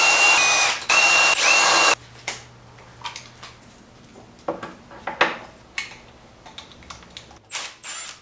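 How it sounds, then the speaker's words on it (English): Tools fasten bolts while an electric bike is assembled: two loud whirring bursts from a power driver, then a quiet stretch of scattered ratcheting clicks and small metallic taps close by. "then you simply cinch them down with a wrench"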